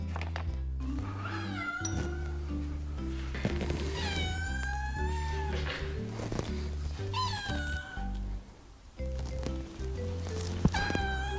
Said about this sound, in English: My cat sounds like it's like, in distress.